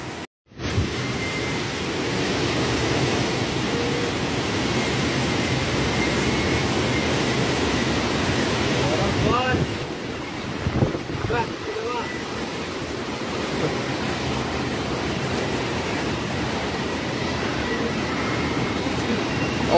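Strong typhoon wind roars outdoors during Typhoon Krathon in Taiwan, a loud, steady broadband rush that holds for the whole stretch, briefly dipping and gusting midway, with faint voices underneath.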